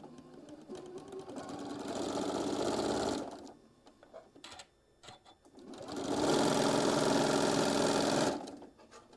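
A sewing machine stitches fabric down in two sustained loud runs of rapid whirring, separated by a quieter pause with faint handling noises, close by and with no voices.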